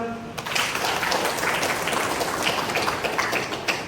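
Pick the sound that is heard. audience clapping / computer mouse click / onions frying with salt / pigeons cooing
audience clapping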